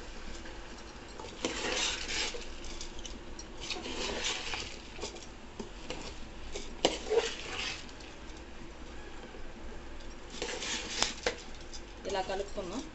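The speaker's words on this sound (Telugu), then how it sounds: "ఈ ముక్కల్ని ఇలా కలిపి" Chopped pieces of food are stirred together in a pot, making intermittent bursts of soft scraping and rustling at close range, with quieter pauses between the strokes.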